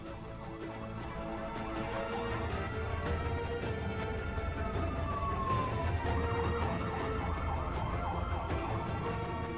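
A steady wail of police car sirens from an escort convoy moving a large statue by truck, over the low rumble of heavy traffic, continuous and fairly close, with a gliding pitch sweep partway through.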